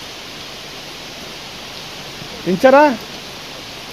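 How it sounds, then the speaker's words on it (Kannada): Heavy rain pours steadily at Yana, a loud, even hiss that fills the air. A voice briefly rises above it near the end. "ಈಗ ಸಿಕ್ಕಾಪಟ್ಟೆ ಜೋರಾಗಿ ಬರ್ತಾಯಿದೆ ಮಳೆ"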